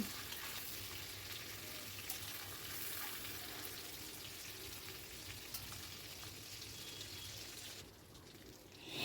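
Fried chicken lifted from hot oil and left to drain, with a steady, dense sizzle and crackle throughout that thins slightly near the end as dripping oil settles, close and continuous with no voices.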